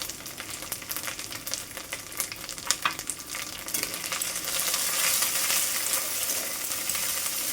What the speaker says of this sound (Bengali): এবার দেবো আদা বাটা, এখন দিচ্ছি জিরে বাটা